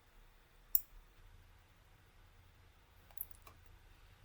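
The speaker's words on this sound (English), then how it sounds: "I can click on this little icon again, and then I can click on download as SHP file" A computer mouse clicks a few times at a desk while working in mapping software, one sharp near click followed a couple of seconds later by two fainter ones over quiet room hiss.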